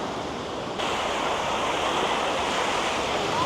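Ocean waves on a sandy beach in San Sebastián, northern Spain, give a steady, full rush of surf that continues without a break, with some wind noise and no voices.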